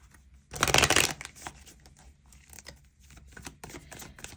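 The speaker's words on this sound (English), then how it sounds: "let's go ahead and pull some additional cards here" Tarot cards shuffled in a loud burst of riffling, followed by softer sliding and tapping as individual cards are pulled from the deck, with no talking.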